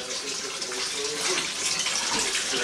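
Tap water gushes steadily into a basin during hand-washing of laundry at home, a loud continuous rushing splash that fills the whole stretch with no pauses.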